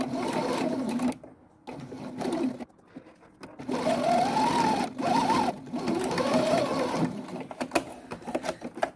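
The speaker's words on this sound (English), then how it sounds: "We start by sewing our seam face to face with the allotted seam allowance." A domestic sewing machine stitches a seam with two fabric layers placed face to face, running in steady motor bursts separated by short pauses, close and clear with no talking.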